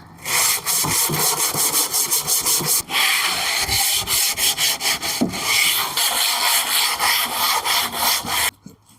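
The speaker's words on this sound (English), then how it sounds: "start by giving it a bit of a sand. I've got some 40 grit sandpaper here" Rough, rhythmic rasping of 40-grit sandpaper scrubbed back and forth on a painted wooden dresser, close and steady for several seconds, then stopping.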